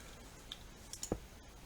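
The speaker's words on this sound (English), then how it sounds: "My mouse clicks are really loud and irritating." A few faint, sharp computer mouse clicks sound during a Minecraft modpack play session. Single clicks come irregularly over a quiet background hiss, with one slightly stronger pair near the middle and no one speaking.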